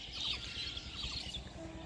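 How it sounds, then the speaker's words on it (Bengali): Birds chirping and twittering around a Bangladeshi village in the late afternoon before sunset, a faint scatter of calls over quiet outdoor ambience, heard from some distance. "পাখির শব্দে মুখরিত এখন চারপাশ।"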